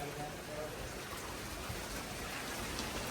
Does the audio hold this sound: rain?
yes